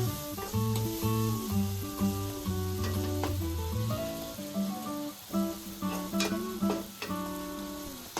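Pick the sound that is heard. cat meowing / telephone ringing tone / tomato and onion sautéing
tomato and onion sautéing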